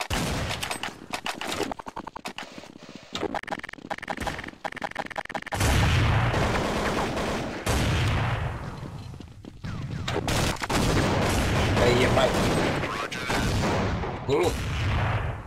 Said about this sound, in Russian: Нет, это наш стрелял.